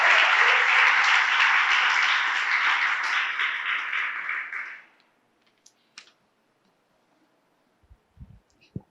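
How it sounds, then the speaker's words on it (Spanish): Sustained applause from a church congregation for about five seconds, then it stops abruptly, leaving near silence with a few faint knocks and shuffles. "Denle un aplauso al Señor en esta mañana"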